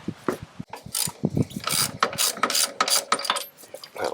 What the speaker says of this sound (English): All right, now ratchet.